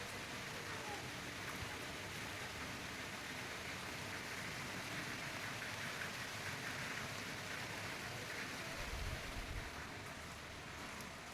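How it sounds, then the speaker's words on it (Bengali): Steady rain falls outside a village home in a dense, even hiss that runs throughout, with a faint low rumble near the end. "দেখো বাইরের দিকে বৃষ্টি পড়ছে"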